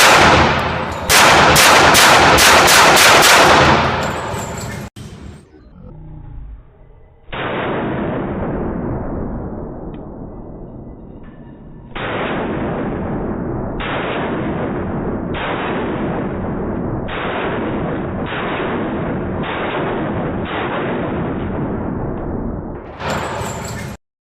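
Pistol shots from a .45 ACP 1911 and Glock 41, appearing as a rapid loud burst followed by a steady series of separate sharp blasts with echoing tails.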